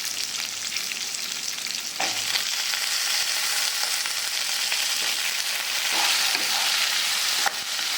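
Brinjal frying in oil with onion and garlic, being sautéed for chutney: a loud, continuous sizzle broken by occasional scraping stirs.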